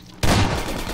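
A gunshot in Half-Life 2 Episode One, one sudden loud blast that cuts in sharply and rings out with a dense, noisy tail over about a second.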